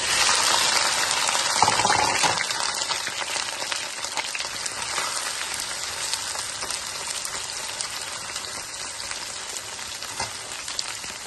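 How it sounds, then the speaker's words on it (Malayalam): Okra sizzling and crackling in hot oil in a pan, a loud, steady close frying hiss with stirring scrapes, a brief surge near the start when the okra goes in, no voices. "ഇനിയും ഇതിലേക്ക് ഈ വെണ്ടയ്ക്ക ഇട്ടൊന്ന് വഴറ്റിയെടുക്കാം."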